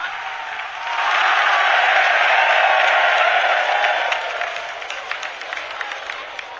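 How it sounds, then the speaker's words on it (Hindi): A large crowd at a Bageshwar Dham gathering applauds loudly to welcome the Prime Minister, clapping swelling from a quiet start into a dense, sustained roar before gradually thinning out. "जोरदार ताली बजा करके हम सब पूरा बागेश्वर परिवार स्वागत करें"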